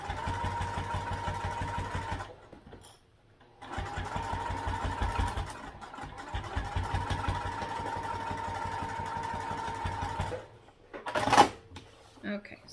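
Sewing machine stitching through thick pleats of a crossbody bag, two long runs of fast, steady mechanical chatter separated by brief pauses, with a short click near the end.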